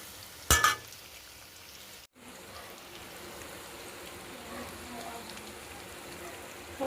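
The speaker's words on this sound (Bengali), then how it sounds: "সুন্দর করে ফ্রাই করে নেবো, গ্যাসটা কমিয়ে দিয়ে" Chicken pakora frying in a pan makes a steady fine crackling sizzle over low heat, with a loud clatter early on and a brief cutout partway through.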